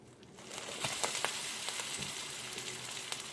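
A salmon croquette patty sizzles and crackles steadily in a thin layer of hot vegetable oil, with close, continuous frying noise and scattered sharper pops.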